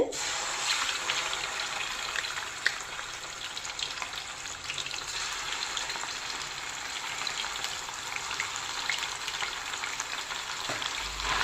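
Ginger garlic paste fries in a cup of hot oil, giving a dense, steady hiss and crackle that stays loud and even throughout.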